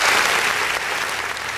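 A studio audience at a French-language talk show bursts into applause, a loud, dense wash of many hands clapping together that eases slightly toward the end.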